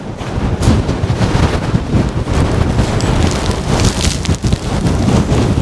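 Strong wind sweeps grit across the beach at Aberlady Bay, a loud, continuous roar that buffets and gusts unevenly throughout.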